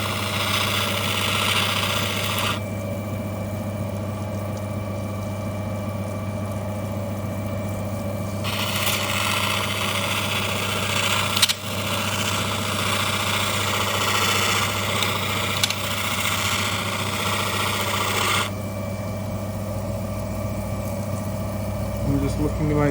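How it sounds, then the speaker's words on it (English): An opal cutting and polishing wheel machine runs steadily throughout, a continuous motor hum with a shifting grinding tone as stones are worked, loud and close with no speech. "So switch the on button, unpause, and let this wheel do its magic."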